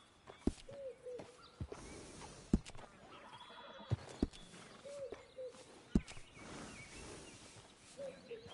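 A horse in the video game Red Dead Redemption 2 whinnies several times against a quiet outdoor background, along with sharp hoof clops and knocks scattered throughout.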